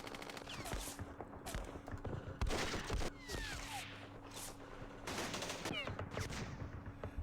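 Quiet, continuous rattling small-arms and machine-gun fire from the Vietnam wargame Campaign Series Vietnam, Dien Bien Phu battle, crackles in dense overlapping bursts under a steady background hum.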